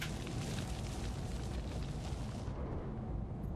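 A grenade blast in XCOM 2 War of the Chosen, set in a sewer level: a loud, dense roaring boom that fills the whole stretch, rumbling steadily before its upper hiss thins slightly near the end, with no talking.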